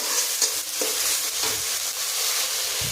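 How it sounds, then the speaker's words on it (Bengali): A paste of ginger, green chilli, cumin and red chilli sizzles and crackles in hot oil close by, with a few scraping stirs breaking through the steady frying hiss. "এই মশলাটা তেলে দিয়ে একটু ভেজে নিলাম, ভেজে নিতে হবে।"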